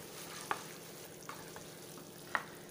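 Potatoes and peas cook in a pan for aloo matar, a soft, quiet frying hiss with a few sharp clinks and scrapes of a spoon against the metal as they are mixed.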